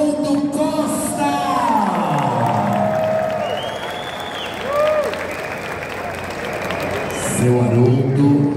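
An audience at a samba ball applauding Haroldo Costa, steady clapping and some cheering in a hall under a man's amplified speech and music.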